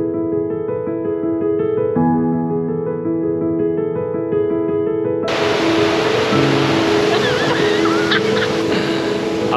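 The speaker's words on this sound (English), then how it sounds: "Oh my God, it's like full waterfall." Toorongo Falls, a waterfall on a hiking trail, bursts in as a loud, dense roar of rushing water midway through, with music playing throughout.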